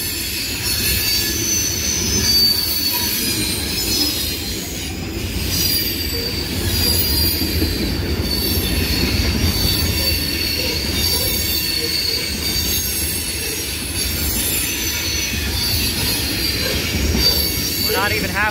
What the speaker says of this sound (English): We're not even halfway through the train yet.